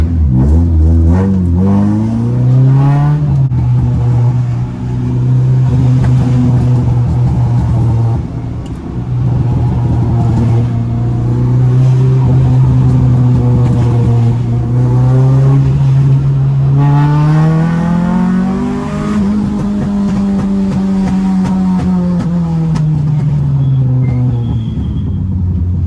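A Renault Clio 2 RS engine revs up and down through long sweeping pulls, with loud droning exhaust and occasional pops and crackles on lift-off, close and continuous with no voices.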